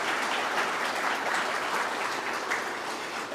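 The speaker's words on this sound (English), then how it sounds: "And a round of applause for Crosspoint and all the organizations that have gone through." A round of applause at a Crosspoint charity lunch, steady dense clapping from a seated audience, even and unbroken for a few seconds.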